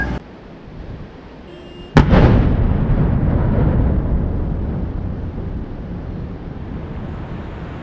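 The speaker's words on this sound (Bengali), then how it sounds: "যে রুটটা ব্লক আছে এই পাথরগুলোকে সরানোর জন্য আরেকবার কিন্তু এই ভেহিকেলটা দিয়ে ব্লাস্টিং করানো হবে।" A rock blast goes off on a blocked mountain road, one sudden loud boom after a quiet stretch, followed by a long rumbling roar that slowly fades, with wind noise.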